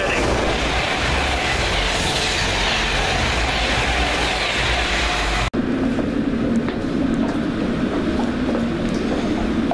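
A London Metropolitan Line train travelling, with a loud steady rumble and broadband rail noise throughout, then an abrupt cut to a quieter interior drone with faint clicks.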